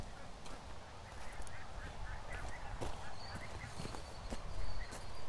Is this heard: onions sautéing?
no